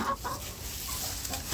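Chickens in a winterized coop with an indoor run, soft close clucks and murmurs from a few hens over low background noise, brief and unhurried.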